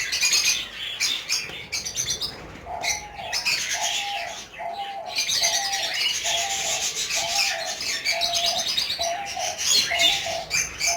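A colony of about fifteen pairs of doves cooing in an aviary, soft repeated coos in a steady rhythm under a dense, constant bed of chirping and twittering from other birds close by, with no voices.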